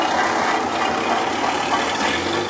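A 1930 BMW Dixi car engine running at raised revs on its hand throttle with advanced ignition, a loud, steady, close mechanical drone throughout with no talk.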